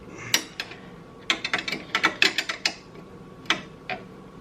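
A 13mm wrench ratcheting on the torsion spring bolt of a Ski-Doo R Motion suspension gives irregular bursts of close metallic clicks, several quick clusters spread across the moment with quiet gaps between.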